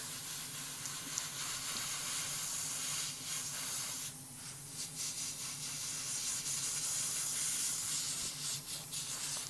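Aerosol spray paint misting in light coats over plastic parts of a Hasegawa Lancia 037 Rally model kit: a steady close hiss that swells and fades slightly in short passes, with no voices.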